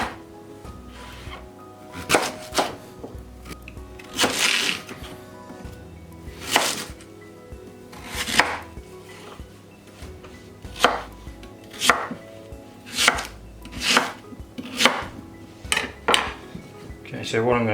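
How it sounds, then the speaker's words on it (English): Sweet potato and butternut squash roughly chopped on a board for roasting, a close, loud run of a dozen or so irregular knife thuds with brief pauses and light clatter between strokes. "So they just need to be roughly chopped."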